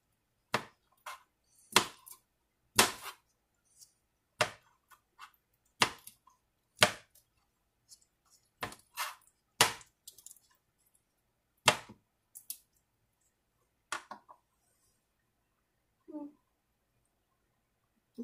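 A knife chops raw shrimp on a cutting board for a shrimp burger, sharp distinct knocks in an irregular rhythm with short pauses, close and clear against a quiet room.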